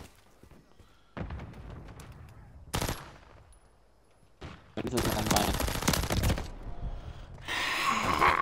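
Gunfire from the Renetti pistol in Modern Warfare III, loud rapid bursts of shots in several stretches with pauses between them, mixed with game effects.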